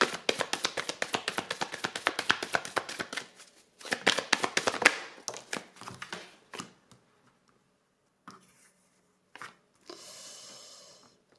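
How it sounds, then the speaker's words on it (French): Tarot cards being shuffled and the last one drawn from the deck: a rapid, close riffle of flicking cards, then scattered taps and a few soft handling sounds trailing into near silence with a brief rustle. "Je vais tirer ma dernière carte."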